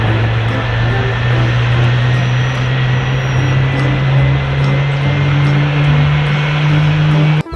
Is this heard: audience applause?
no